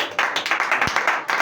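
A church congregation claps in acclamation of Jesus during a French-language sermon. Quick, even, rhythmic handclaps repeat about every fifth of a second, close and fairly loud, with no talking over them.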